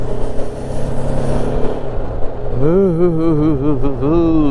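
Road traffic on Malkapur road in Sangameshwar in the morning: a steady roar of passing vehicles, with a wavering engine or horn tone rising near the end.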